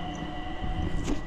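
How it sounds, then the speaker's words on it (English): A train rumbles at a station: a short stretch of low mechanical drone with a steady tonal hum, moderately loud and close. "My train is coming in 7 minutes."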